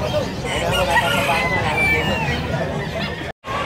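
A rooster crows amid clucking chickens at a pet market in Bocaue, with people chattering nearby and a brief cut to silence near the end.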